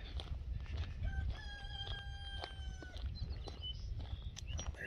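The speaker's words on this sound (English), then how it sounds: "There's the rooster." A rooster crows outdoors on a sunny day, a couple of drawn-out calls rising over steady low rumbling background noise, fairly distant and moderately faint.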